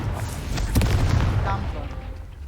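Confringo, an explosive fire spell cast in Hogwarts Legacy, goes off as a loud booming blast with a sharp burst near the middle, then fades over a rumbling battle backdrop.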